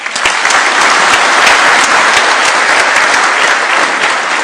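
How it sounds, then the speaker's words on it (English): Loud, dense applause from a conference audience after President Ruto's speech at a heritage authenticity in Africa conference, steady and close throughout with no talk. "A warm round of applause for His Excellency"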